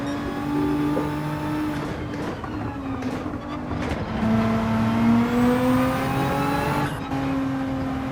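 Porsche race car engine in the racing game Gran Turismo 7, loud and steady, with a rising and falling engine note as it holds revs, shifts and accelerates, heard alone.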